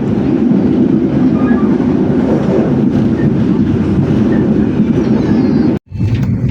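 A passenger train on the Jember–Ketapang route rumbles steadily along the rails with a low, continuous roar, cut off by a brief gap near the end before the rumble resumes.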